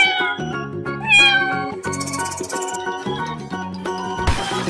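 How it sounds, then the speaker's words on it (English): Cartoon cat meowing in a few rising calls, mixed with tinkling chime effects and other playful sounds in a funny animal transformation sequence. "Cat."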